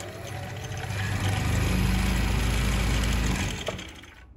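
An electric sewing machine motor whirs up, runs at a steady hum for a couple of seconds, then winds down again, fairly close and with no talking.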